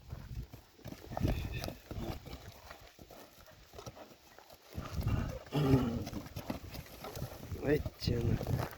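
A tall white horse walking, hooves clip-clopping in uneven steps close by, with people talking over and between the footfalls.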